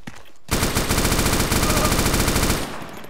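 Sustained automatic gunfire in a realistic military shooter game, a loud, dense burst of rapid rattling shots lasting about two seconds before cutting off, with no speech over it.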